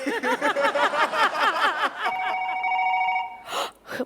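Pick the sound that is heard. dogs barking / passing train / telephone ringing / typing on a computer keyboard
telephone ringing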